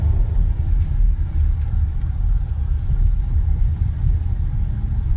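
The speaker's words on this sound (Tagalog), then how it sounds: "may mga sasakyan din" Cars passing on a road beside Flamingo Lake in Dubai on a weekend, a steady low rumble of traffic that holds throughout without pause or voices.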